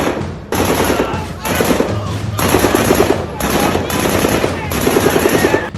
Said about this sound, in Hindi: ये तो LMG फायर की आवाज लगती है।